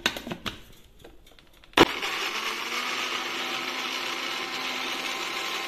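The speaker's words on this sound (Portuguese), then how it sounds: "Coloquei um pouquinho de alho aqui no liquidificador primeiro para mostrar para vocês que também dá para fazer por aqui" An electric kitchen blender switches on after a few soft knocks and grinds garlic cloves, a loud, steady whirring roar that holds without pause to the end.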